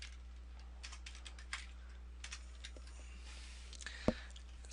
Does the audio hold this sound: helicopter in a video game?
no